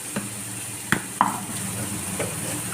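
Onion and ground tomato sautéing in a pan for chicken tikka masala, a soft steady sizzle broken by a few sharp scrapes and knocks of a spoon stirring against the pan.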